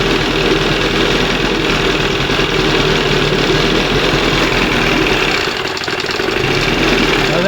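A 1971 Johnson 20 HP outboard motor runs at fast idle, giving a loud, continuous, slightly knocking engine drone that holds steady nearby, with a brief dip partway through.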